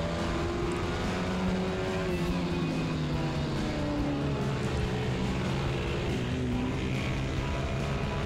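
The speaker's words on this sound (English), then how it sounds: "And that's him coming past there." A Honda CBR125R racing motorcycle drones steadily at Lydd Kart Circuit, its engine note rising and shifting as another bike comes past, heard loud and continuous from the rider's own machine.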